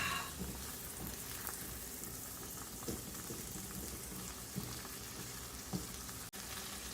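Tomatoes, onions and garlic frying in a pan for chicken spaghetti, a constant quiet sizzle with soft crackles and occasional light stirring, close and steady with no talk.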